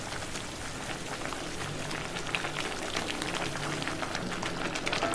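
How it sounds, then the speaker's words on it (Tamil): Roasted rava tipped and stirred into boiling water for hotel-style kichadi, a continuous close bubbling and soft pattering crackle with no voices. "இப்போ இதில் நம்ம வறுத்து வச்சுருக்கிற ரவையை இப்படி அப்படியே ஒரு கையில் கொட்டிகிட்டே நீங்கள் இன்னொரு கையில் கிளறி விட்டுட்டே இருக்கணும்"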